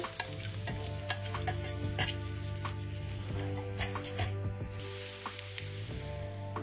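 Garlic and onion sizzle steadily in a pan with red peppers, a continuous frying hiss broken by scattered clicks and scrapes of stirring, close and moderately loud with no talking.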